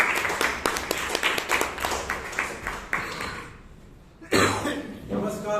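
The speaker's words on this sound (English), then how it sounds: "let us give him a big round of applause" Clapping from the audience at a Bangalore Toastmasters club meeting, a dense run of hand claps that fades out before a voice begins speaking.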